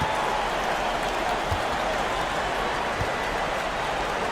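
Steady roar of a home crowd cheering and applauding in a Euroleague basketball video game, a dense continuous wash of noise with no clear individual claps, under commentary.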